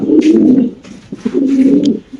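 A black male fancy pigeon at a sale coos loudly and close by in two long throaty rolling phrases separated by a brief pause, with no speech over it.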